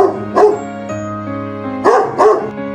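A farm dog barks alone and loud, one sharp bark followed a bit later by a quick pair of barks, with short tonal whines carrying between them.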